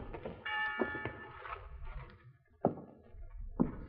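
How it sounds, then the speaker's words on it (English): A bell rings out as the signal to stop work at a field camp in an old radio drama, faint and distant, with a few dull thumps around it. "That bell must have been the signal to stop work."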